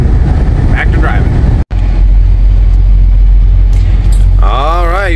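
Steady low rumble of a truck engine rolling down the road, loud and continuous with a brief dropout, then a warbling tone rising and falling near the end.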